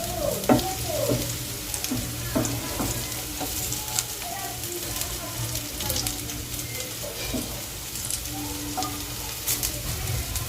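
Oats tikki frying in shallow oil in a pan, a continuous bright sizzle with scraping and pressing taps from a spatula, steady and close with no talking.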